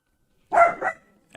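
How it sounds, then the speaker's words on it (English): A dog gives a single close, loud bark made of two quick bursts against otherwise silent surroundings, followed by a faint click at the end. "Suddenly this dog is barking."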